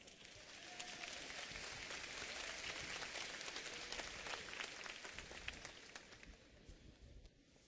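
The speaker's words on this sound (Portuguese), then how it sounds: "Let's give a real round of applause" An audience at a bilingual church gathering gives a real round of applause for a boy named Douglas, dense and sustained clapping that fades slightly toward the end.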